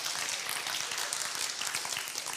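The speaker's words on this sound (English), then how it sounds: "Give them a round of applause, everyone." An audience applauds the winners of a game with a dense, steady wash of clapping, fairly close and loud, sustained for a couple of seconds with no voices over it.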